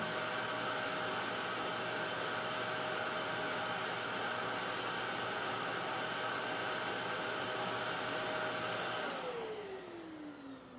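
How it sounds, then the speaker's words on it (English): A Fein Turbo I wet/dry dust extractor vacuum running with a steady, loud whooshing motor drone and a constant whine, which then begins to wind down, its pitch falling as it shuts off at the end. "this vacuum keeps running for a few seconds, which helps in cleaning any remaining dust that's lingering"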